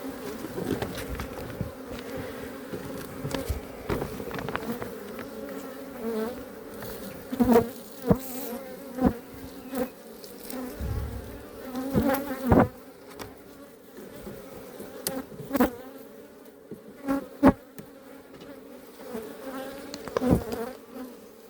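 Honeybees buzzing around a beekeeper at a garden apiary hive, a close, wavering drone with individual bees zipping past the microphone in sharp bursts over about twenty seconds.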